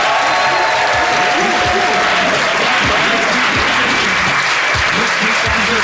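A quiz show studio audience claps and whoops in a loud, sustained burst of dense applause with cheering voices, filling the room throughout.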